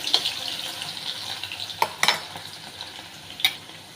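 Garlic sizzles steadily in hot oil close by, with a few clinks of a utensil stirring through the pan.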